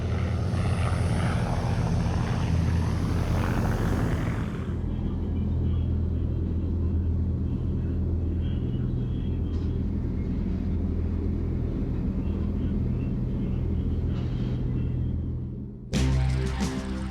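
Vickers Wellington bomber piston engines droning, a loud, steady, low propeller rumble that holds throughout, briefly thinning before a sudden burst near the end.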